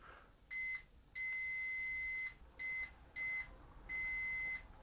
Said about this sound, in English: We can hear the meter beep, meaning that they're joined up, so we have continuity.